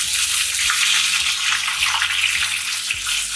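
Chopped medium-sized tomato drops into a sizzling Kerala prawn and coconut curry base in a pan. A steady, close, bright sizzle runs throughout with a few soft thuds underneath, and no one speaks.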